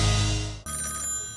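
A telephone rings loudly in two bursts of bright, warbling electronic ringing separated by a brief gap, with no talking.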